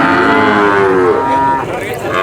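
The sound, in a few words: cattle mooing at a cattle market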